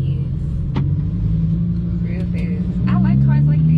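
A Lamborghini engine rumbles steadily close by and then rises in pitch as it accelerates toward the end, with people talking over it.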